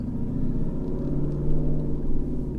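Jeep SRT Trackhawk driving on the road at around 30 mph, a steady low engine rumble with road noise and slight swells in level, loud and continuous with no voices.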